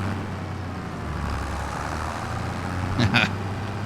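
An old-school 116-horsepower tractor in Farming Simulator 25 rumbles with a steady low engine drone, and a short hissing burst comes near the end.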